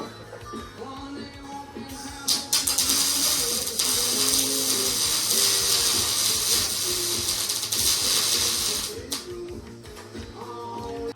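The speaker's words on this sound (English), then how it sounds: "Here I'm using the Ellis bandsaw to cut the 2x3x8 wall mild steel" An Ellis bandsaw cuts an angled section of 2x3 mild steel tube, a harsh, loud, sustained metallic grinding hiss beginning after a short mechanical lead-in and stopping near the end, with clanks of workshop machinery around it.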